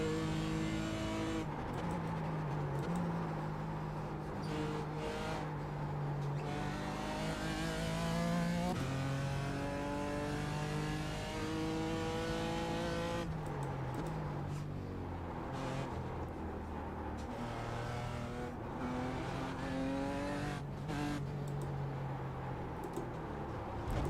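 A BMW GT4 race car engine at Sebring in a racing game, revving hard through the gears with rising and falling pitch on a hot lap, loud and continuous with tire noise and no talk.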